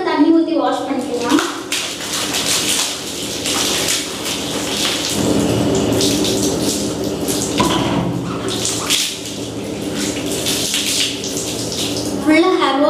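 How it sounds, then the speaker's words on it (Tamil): Water poured over hair during a hair wash to rinse out an applied treatment, a steady close rushing and splashing that runs through the whole stretch, with a voice heard over it at times. "இப்போ நம்ம தண்ணி ஊற்றி வாஷ் பண்ணிக்கலாம்"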